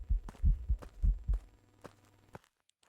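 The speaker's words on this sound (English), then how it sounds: "Did you hear my heartbeat?" Heartbeat in the ghost-hunting video game Phasmophobia, a run of deep muffled thumps in quick paired beats, close and fairly loud, then stopping short into silence.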